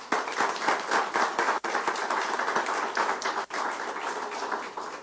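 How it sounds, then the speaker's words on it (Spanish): An audience applauds the president of the Tlaxcala electoral institute at a democratic dialogue event, a dense, steady wash of many hands clapping throughout with no talk. "pedimos un respetuoso aplauso"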